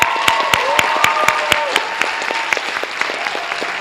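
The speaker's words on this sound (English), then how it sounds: "Let's give them a round of applause." Audience applauding percussionists on stage at a school rhythm show, a dense steady wash of clapping with a few sharp individual claps standing out near the front.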